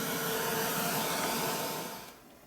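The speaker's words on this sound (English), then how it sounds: "So I'm going to dry that off." A heat tool blowing hot air to dry a layer of red paint on a page, a loud, steady close whoosh that drops off sharply near the end, with no talk.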